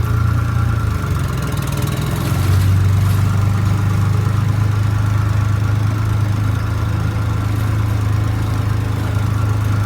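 A small tractor repowered with a 13-horsepower engine idles steadily and close by, a continuous low hum with an even drone and no voices throughout.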